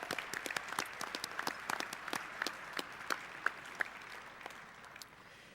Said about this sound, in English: let's give a round of applause to the Salem Civic Center staff tonight.